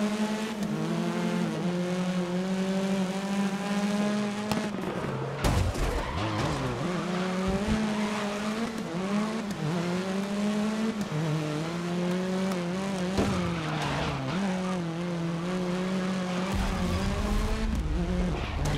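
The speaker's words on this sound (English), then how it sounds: "This grid world series event is underway and racing towards turn one." Race cars in the Grid racing game roar through a World Series event. Engines whine and shift pitch as they rev and change gear, and tires squeal and skid at intervals. The sound is continuous and loud, with no voices.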